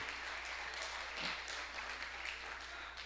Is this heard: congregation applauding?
yes